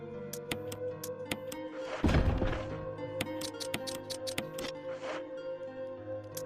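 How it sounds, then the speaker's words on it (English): A shotgun is reloaded in Resident Evil HD Remastered with a steady series of sharp clicks and knocks, shells sliding in one after another, plus a heavier thump partway through over a low game ambience. "Quick reload"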